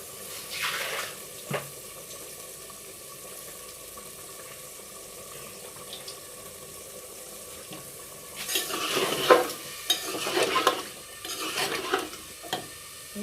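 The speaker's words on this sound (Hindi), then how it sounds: "आलू को हम तकरीबन 2-3 मिनट भूनेंगे इनको भी।" Potatoes and cauliflower frying in a pan for dhaba-style aloo gobi, with a soft sizzle and occasional spoon knocks, then a louder burst of stirring and scraping near the end.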